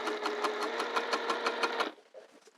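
A sewing machine stitches a skirt in a fast, even run of mechanical chatter, close and steady, then stops abruptly, leaving faint handling noise.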